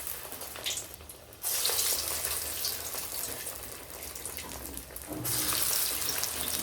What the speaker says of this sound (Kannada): ಇವಾಗ ಎಲ್ಲ ಒಂದೊಂದಾಗಿ ಎಣ್ಣೆಯಲ್ಲಿ ಬಿಡ್ತಾ ಬರ್ತಾ ಇದ್ದೀನಿ.